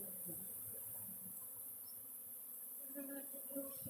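Honeybees at the entrance of a hive holding a new Saskatraz queen give a steady, low, continuous hum throughout, with no talking over it.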